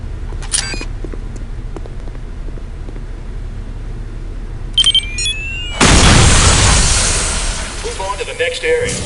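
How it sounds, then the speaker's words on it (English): A planted radio-controlled bomb detonates in Counter-Strike: Condition Zero Deleted Scenes, a sudden loud blast after a few small beeps and clicks, followed by a rumbling decay over low background ambience. "take cover and press your fire key to detonate the bomb"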